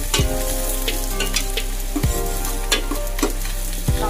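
Celery, carrots and sliced garlic sizzle steadily in a hot pan while being stirred for a creamy pumpkin soup, with repeated scraping strokes and clunks of the utensil against the pan over a continuous frying hiss.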